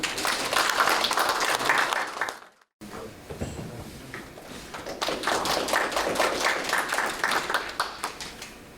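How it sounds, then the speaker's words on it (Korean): A small audience of about twenty at an academic symposium claps for the opening address, with brisk, close applause broken by a brief cut, then resuming with a thinner patter. "여러분 큰 박수 부탁드리겠습니다."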